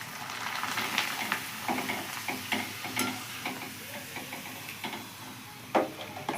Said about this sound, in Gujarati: આપણે જો તેલ પણ સરસ એવું ગરમ થઈ ગયું છે તો હવે આપણે આ પાપડને એવું